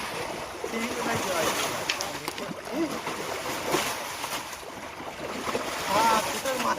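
Water is bailed out of a shallow village river pool while fishing, giving steady splashing and sloshing with irregular bursts, close and continuous over a background of flowing water.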